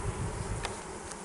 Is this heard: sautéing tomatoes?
no